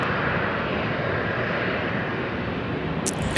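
Qantas airliner on final approach to land at Sydney Airport, a loud continuous roar of engines and rushing air that holds steady throughout, close and unaccompanied by any voice.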